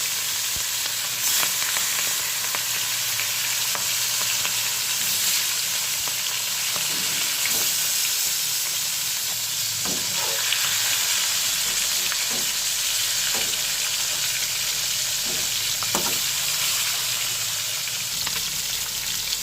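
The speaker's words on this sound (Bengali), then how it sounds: "দেখুন মাছগুলো ভাজা হয়ে গেছে" Fish pieces fry in hot mustard oil in a kadai, a loud continuous crackling sizzle that holds steady throughout, with occasional soft knocks and no voices.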